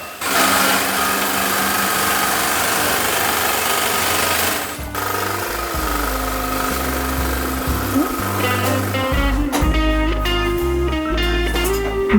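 An industrial sewing machine stitches a mattress on a factory floor, running loud and continuous with a steady mechanical whir that changes pace after a brief pause, then carries on in rhythmic bursts.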